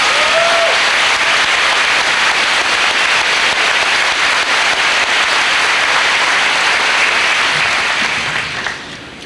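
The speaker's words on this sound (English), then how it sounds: "Let's give them a round of applause." A graduation audience at a high school ceremony breaks into loud, dense applause that fills the hall steadily before tapering off at the end.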